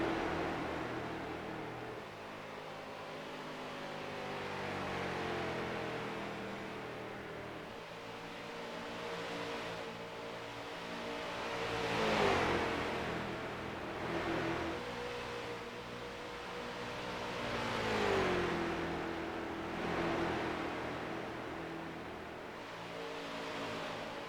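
Pro street stock cars racing on a track, engines droning continuously and swelling as cars rev and sweep past, with rising and falling pitch in two strong passes, no commentary audible.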